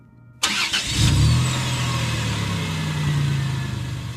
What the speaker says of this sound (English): And I start driving